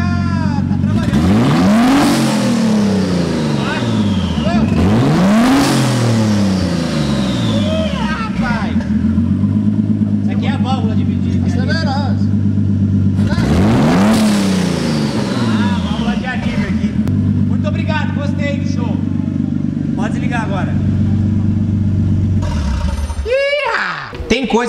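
A turbocharged Nissan 350Z engine revving hard in repeated rising and falling sweeps, loud and close, then idling with a rough steady rumble before a final blip; people talk briefly over it.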